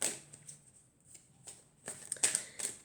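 Tarot cards are shuffled by hand in a series of soft, papery riffles and rustles that grow busier toward the end, close and fairly quiet with no talking.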